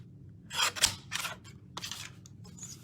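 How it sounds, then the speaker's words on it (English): Scissors snip through Stampin' Up! designer series paper in a few quick close cuts, a cluster of crisp rasping strokes followed by a short pause and two more cuts. "I want to cut a little bit more."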